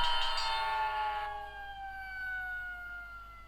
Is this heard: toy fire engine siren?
yes